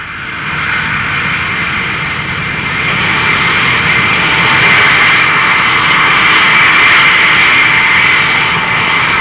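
A loud Concorde supersonic jet roars steadily throughout, a sustained engine rumble with a high whine, slowly swelling as it passes close by.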